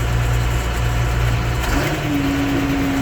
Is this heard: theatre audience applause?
no